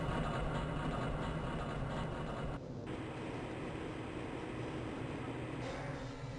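Inbound train from the Area 8 topside dormitories to the Central Transit Hub in Area 9 rumbles steadily and continuously, a close, even mechanical drone that briefly dips partway through.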